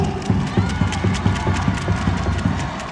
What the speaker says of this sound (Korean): 다시 한번 힘찬 박수와 함성을 부탁드립니다